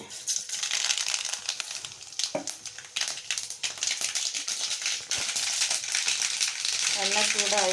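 Mustard seeds, onion, garlic and curry leaves fry in hot oil in a kadai, giving a steady, close crackling sizzle with scattered pops, and a voice is briefly heard near the end.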